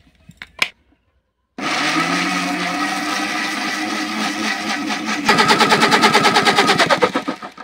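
After a brief click of the lid, a blender grinds watermelon into a fine paste, starting with a loud, close roaring whir that later turns into a rapid, rattling pulsing grind until the end.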